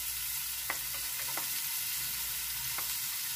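Onion sautéing in a pan for a pressure-cooker shell-pasta dish, a soft, even sizzle heard up close with a few faint utensil taps and no speech.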